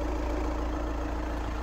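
A VW Tiguan engine idling steadily under the open bonnet, a low, even rumble close up with no revving or voices.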